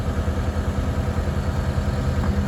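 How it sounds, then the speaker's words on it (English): A John Deere 320D skid steer engine idles down, a steady low mechanical rumble with a faint clatter, close and continuous throughout. "Go ahead and idle it down, Pro."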